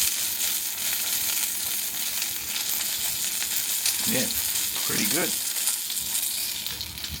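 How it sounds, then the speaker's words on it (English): Pork belly sizzles on a Masterbuilt 800 smoker with a steady, close crackling hiss, while someone speaks briefly partway through. "You can see we are starting to just sizzle up a bit there."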